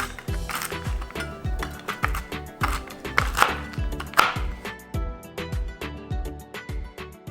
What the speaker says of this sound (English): I'm just gonna chop them up with a knife